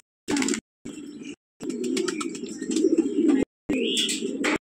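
Giribaj pigeons coo in several short, separate bursts, close and fairly loud, with soft throaty rolls broken by brief silences.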